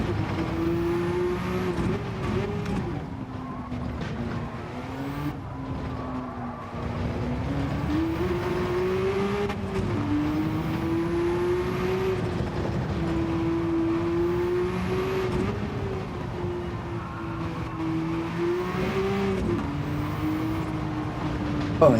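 Mazda 787 race car in the video game Gran Turismo 7 drones steadily for the whole stretch, its engine pitch rising and dipping gently with gear changes during an online lobby race.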